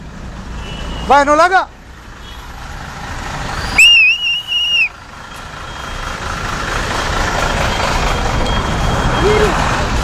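A vehicle on a busy street gives a warbling reversing beep, followed by a second, shorter high whistle-like tone, with someone speaking briefly over steady traffic noise and crowd murmur.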